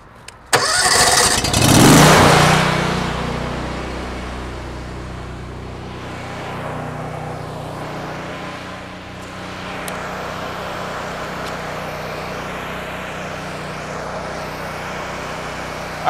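The engine on a pressure washer trailer cranks and catches with a loud burst that rises sharply, then settles into a steady, close mid-pitched idle that runs on for several seconds.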